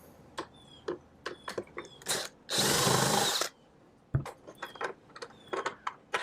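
A power drill whirs in one steady burst of about a second while removing long screws from a Hayward Navigator pool vacuum, surrounded by close clicks, taps and small clatters of handled parts and tools.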